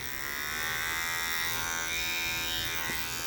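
Barber's electric hair clippers buzzing loudly and steadily at close range for a few seconds, a dense bright motor drone in a barber shop with no talking.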